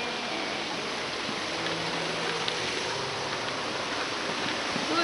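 Steady broadband rush of falling water at the Akame 48 Waterfalls gorge, a continuous even roar filling the clip on its own with no voices.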